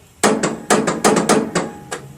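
A lawn tractor's ignition is turned against a seized engine, producing a quick series of about seven hard metallic clunks at an uneven rhythm, close and loud, with no voices.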